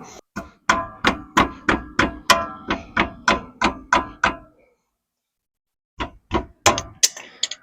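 A rear axle seal on a 2008 Ford Mustang being hammered out: a steady run of about fifteen sharp metallic blows, a short pause, then four more quick strikes, loud and close, with no talking.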